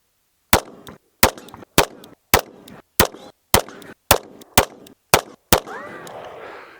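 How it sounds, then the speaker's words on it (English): A Staccato HD P4 pistol fires ten sharp, loud shots at a target, evenly paced about half a second apart, each followed by a brief ring, then low rustling once the string ends. "the goal is to get all 10 rounds in the 10 or X ring, just to see how accurate we can be with this gun"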